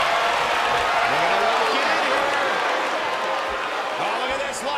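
A capacity crowd in a wrestling video game arena roars steadily throughout, a dense wash of cheering and applause at moderate loudness with faint commentary-like voices underneath.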